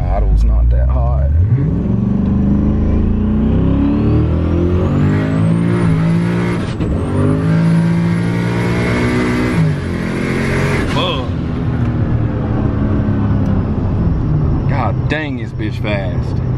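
A turbocharged Chevrolet Colorado engine revs hard from a low rumble up to a sustained high-rpm scream, with turbo whistle and gear-like pitch shifts, then drops back; loud and close, with people talking over it.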